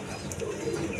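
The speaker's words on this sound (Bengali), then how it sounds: "দর্শকবৃন্দ, এইখানে এক পেয়ার কবুতর আছে" Lahori pigeons coo softly and steadily in a loft, a low murmuring call close by with faint background noise.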